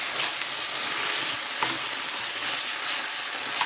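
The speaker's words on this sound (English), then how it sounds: "Yes, look at this. It's popping." Peanuts frying in a pan, a dense continuous sizzle with faint pops and crackles scattered through it.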